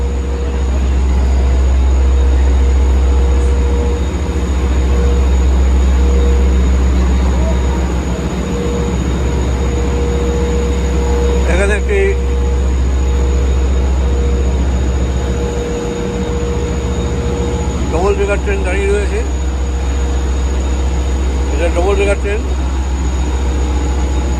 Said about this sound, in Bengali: এগুলো ট্রেন চলাফেরা করে